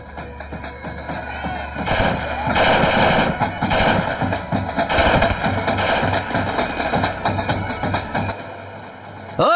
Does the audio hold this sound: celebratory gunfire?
yes